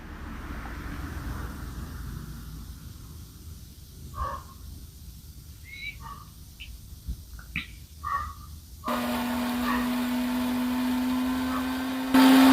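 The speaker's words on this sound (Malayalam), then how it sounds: "മിക്സി ജാറിൽ പേസ്റ്റ് ആയിക്കൊണ്ടിരിക്കുകയാണ്." An electric mixer grinder whirring in a mixie jar, grinding paste for buffalo heart roast, starts partway through as a loud steady drone after quiet stretches with a few bird calls outside.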